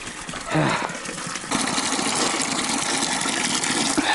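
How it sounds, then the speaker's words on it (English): Water gushing steadily from an artesian well refill station, a continuous rushing pour that swells louder after the first second and holds close and even to the end. "Oh yeah, refill station."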